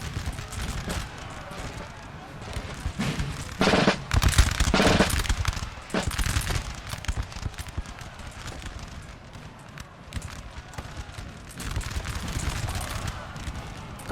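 Holy Roman Empire troops fire musket volleys in a Napoleonic battle in the video game Napoleon Total War 3, with crackling bursts in the middle over a steady rumble of battlefield noise.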